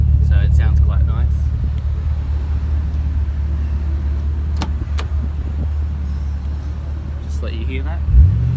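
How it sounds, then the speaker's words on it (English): A 2007 Holden Commodore SS-V with extractors and a catback exhaust idles with a deep, steady low rumble, close and continuous, while someone talks over it. "the car's obviously got a catback exhaust system on it, so it sounds quite nice."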